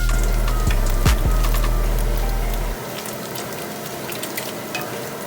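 Sausage sizzles steadily in hot oil in a pan, with a loud, dense crackle close by. A low hum drops out partway through while the frying carries on alone.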